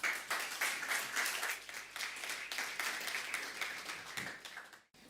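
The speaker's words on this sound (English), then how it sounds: "Please give them a huge round of applause." An audience at a London global forum applauds panelists with steady, dense clapping that carries on for several seconds before cutting off abruptly.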